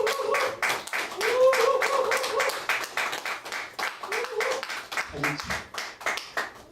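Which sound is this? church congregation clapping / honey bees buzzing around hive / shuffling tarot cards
church congregation clapping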